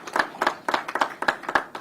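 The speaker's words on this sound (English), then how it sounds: "Let's give him a round of applause" Hands clap at a public safety briefing in an even rhythm of about four sharp claps per second. The sound is close and crisp, like a small group rather than a full crowd.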